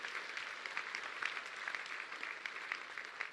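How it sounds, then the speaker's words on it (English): Steady applause from an audience honoring Clark Feister, a crowd clapping continuously with dense, even patter at moderate volume throughout. "let's give a big round of applause for Clark Feister here"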